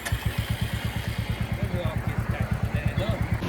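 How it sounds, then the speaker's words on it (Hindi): A motorcycle engine is started and ridden, with a steady rapid low putter that stays prominent and close throughout, while a voice talks faintly over it. "सन्नी ने तो चला ली बाइक"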